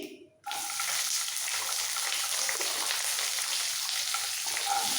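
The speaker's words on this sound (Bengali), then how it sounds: "দিয়ে দিচ্ছি সবজি সবজির মধ্যে রয়েছে খুব সামান্য গাজর বিনস ক্যাপসিকাম টমেটো সব একসাথে দিয়ে দিচ্ছি" Carrot, beans, capsicum and tomato go into a hot pan of South Indian upma: a brief quiet, then a sudden loud sizzle that settles into steady, close frying hiss with no talk.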